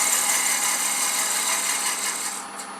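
A skew chisel rides across a spinning wooden loom pulley on a lathe, giving a continuous close, bright scraping hiss that fades slightly toward the end. Nobody speaks.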